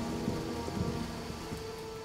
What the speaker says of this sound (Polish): Nic nie widać przez ten deszcz.